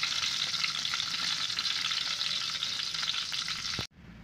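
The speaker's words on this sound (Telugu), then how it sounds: "గుత్తి వంకాయ కొంచెం చక్కగా ఫ్రై అయిపోయిందో చూడండి" Stuffed brinjal fries in a pan, giving a dense, even sizzle up close that runs without a break and then cuts off abruptly near the end, with no voices.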